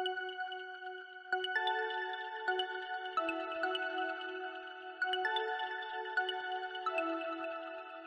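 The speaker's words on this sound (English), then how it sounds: "This is the lead. It's from Omnisphere." Spacey EDM synth lead from Omnisphere playing a melodic line of sustained, bright tones with shimmering overtones, clean and fairly quiet, notes changing every second or so, with no talking over it.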